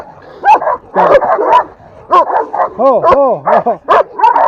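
Several dogs bark, yip and whine at close range in a tense scuffle, with sharp rapid barks and high whimpers overlapping in bursts throughout.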